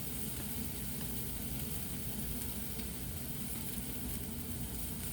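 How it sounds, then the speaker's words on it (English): Green pepper, celery and onions sizzle steadily in a pot for red beans and rice, a constant close crackling hiss with no pauses. "green pepper, celery, and onions cook in here a little bit"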